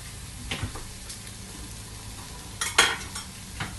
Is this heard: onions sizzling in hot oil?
yes